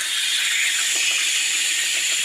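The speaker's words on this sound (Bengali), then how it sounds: "মাংসটা ঢেলে দিলাম কড়াইয়ের পরে।" Marinated chicken meat sizzles in a wok, a loud, dense, continuous hiss that stays steady throughout with no talking.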